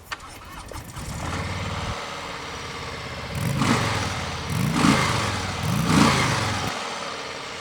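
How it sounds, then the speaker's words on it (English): A 2019 Harley-Davidson Softail Low Rider V-twin on stock exhaust pipes cranks and fires up, settles into a lumpy idle, then gets three throaty revs that rise and fall, loud and close. "start it up, give it a few revs, and hear how it sounds"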